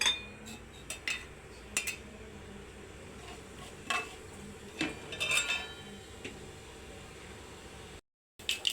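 Seasoning seeds crackling in hot oil in a kadai, heard as scattered sharp pops and light spatters at close range over a quiet hiss, with occasional utensil clinks.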